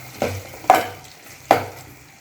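A spoon scrapes and stirs through chickpea masala in a frying pan, with three distinct strokes over a faint sizzle.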